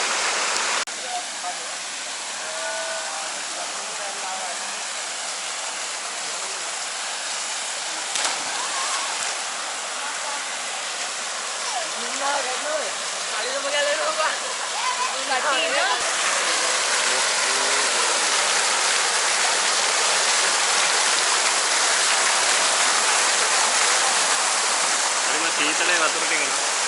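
Anda Dola waterfall in Horana roars in a constant, loud broadband rush of falling water close by, growing fuller toward the end, with voices faintly audible beneath the torrent at times.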